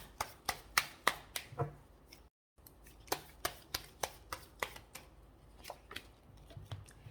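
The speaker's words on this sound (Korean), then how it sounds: "여기서 좋은 카드 하나 뽑아 보겠습니다" Tarot cards snap and flick as they are drawn and shuffled from the deck, close, in quick crisp bursts with one brief silent gap.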